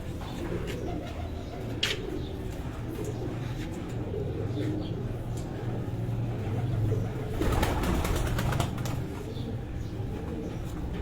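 Sialkoti breed pigeons coo steadily in a low, murmuring rhythm, close by, with some soft rustling and a brief burst of fluttering noise toward the end.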